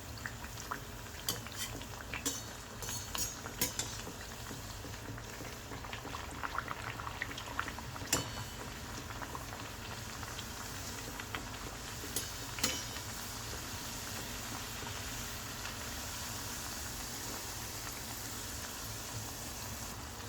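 Puri deep-frying in hot oil for a Sindhi Ekadashi fast meal gives a steady bubbling sizzle with soft crackles, close and even throughout, without talk.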